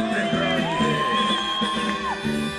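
Spectators at a school olympics opening parade cheer and whoop to greet a marching team, a sustained crowd roar with scattered shouts and yells throughout.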